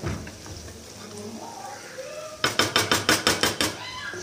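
Lid clattering onto a cooking pot of green pigeon peas on the stove, a quick run of about eight close metallic rattles and clinks as it settles, following a quieter stretch of kitchen noise.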